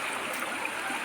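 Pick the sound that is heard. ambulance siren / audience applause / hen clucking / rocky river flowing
rocky river flowing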